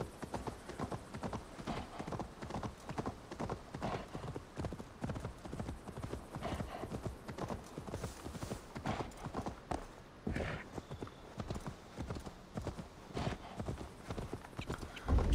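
A horse gallops in the video game Assassin's Creed Valhalla, rapid rhythmic hoofbeats pounding steadily and close throughout, with a brief neigh-like sound in the mix.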